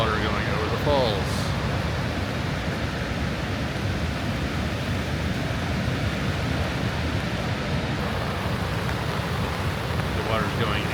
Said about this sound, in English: Here's the actual water going over the falls.